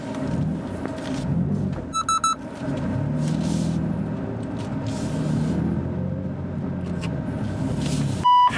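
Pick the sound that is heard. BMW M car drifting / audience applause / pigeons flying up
BMW M car drifting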